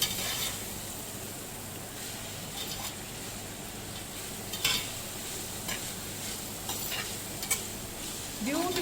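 Cabbage for a cabbage foogath sizzles and fries steadily in a pan while a spoon scrapes and stirs it with a few clinking taps, the frying hiss continuous throughout.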